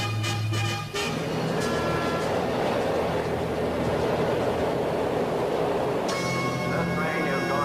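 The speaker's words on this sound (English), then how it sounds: "This train is going out of service." A subway train runs with a steady, loud rumbling roar, preceded and followed by quieter moments with a chime or bell tone, in a 1970s film scene.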